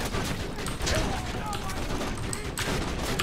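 Turret gunfire crackles in Borderlands 2, rapid bursts of shots and explosions layered in a dense, noisy battle, with excited players talking over the shooting.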